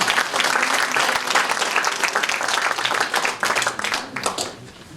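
A crowd applauds steadily, dense clapping holding for several seconds before starting to thin out at the end.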